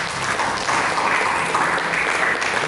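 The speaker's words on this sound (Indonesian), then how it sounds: "Berikan tepuk tangan kepada Yesus Kristus." A church congregation applauds steadily during a worship service, a loud, continuous wash of clapping and crowd noise that holds for the whole stretch.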